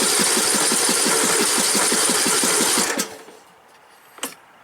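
A Troy-Bilt Pony riding lawn mower with a 17.5-HP 500cc engine runs close by with a fast, steady chugging pulse for about three seconds, then cuts out, leaving quiet and one brief knock.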